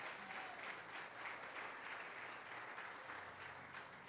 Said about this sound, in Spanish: dele la ofrenda de aplauso a ese Dios maravilloso